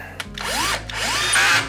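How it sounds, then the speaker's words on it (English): A power drill drives screws during assembly of a Secretlab Magnus Pro desk, a steady whirring motor run with two rising pitch sweeps as it spins up, loud and close with no talking. "I highly recommend using a drill because that's going to speed this process up quite a bit."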